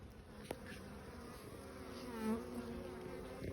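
Honey bees, Buckfast or Irish Black, buzzing around an opened hive, a faint steady drone with individual bees passing close now and then.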